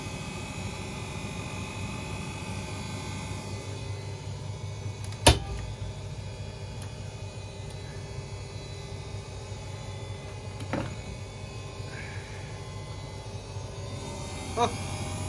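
A washing machine, an AEG Öko-Lavamat 88840 or Miele Novotronic W 985 WPS, spins at 800 RPM with a steady, fairly faint motor hum and whine, broken by a few short clicks and no talking.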